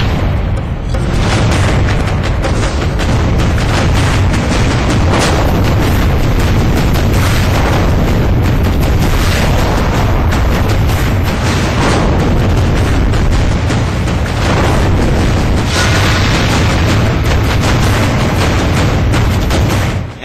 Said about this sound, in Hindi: भारतीय सेना ने नौशेरा सेक्टर में उनकी चौकियों को उड़ा कर दिया